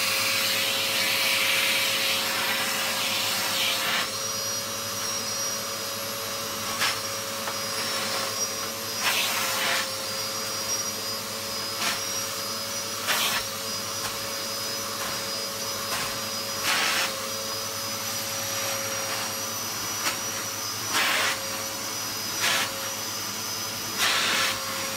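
A Hoover Purepower U3450 vacuum cleaner runs loud and steady with a continuous whining motor hum, its tone shifting briefly at intervals as the hose pulls at sand in carpet.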